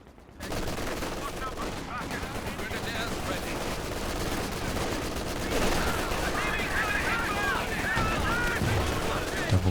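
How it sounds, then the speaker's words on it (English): Machine gun fire in Company of Heroes 2: dense, sustained rattling bursts mixed with scattered gunshots and explosions, loud and continuous throughout, with a voice talking over the battle. "Machine gun covering this VP as well."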